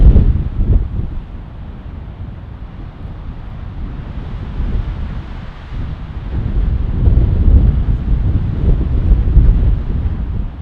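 Strong wind buffets the microphone outdoors on an icy winter hike, a continuous low roaring rumble that surges and eases in gusts, loudest toward the end, with no talking.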